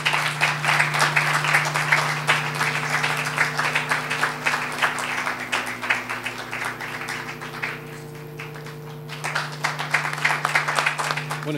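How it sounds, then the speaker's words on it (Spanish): Audience applause for an award recipient at an anniversary commemoration event, steady dense clapping over a constant low hum, briefly thinning near the end before rising again. "Y yo les pediría un gran aplauso a María Soledad."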